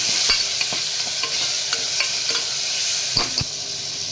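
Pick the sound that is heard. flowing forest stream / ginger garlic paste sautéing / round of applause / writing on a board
ginger garlic paste sautéing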